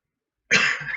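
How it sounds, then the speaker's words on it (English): A single sharp cough right up against a microphone, loud and close, starting abruptly halfway through and trailing off with no talk around it. "almost coughed right into the microphone"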